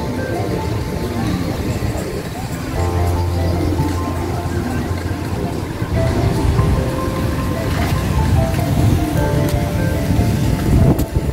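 Sea waves wash onto the shore at Gelendzhik town center, a loud, continuous surging roar with wind and faint background voices mixed in.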